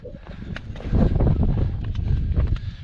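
Strong wind roars across an exposed hilltop at the Cosmic Ashtray in Grand Staircase-Escalante, Utah, a steady rushing gust that swells louder midway and buffets the microphone, with no one speaking.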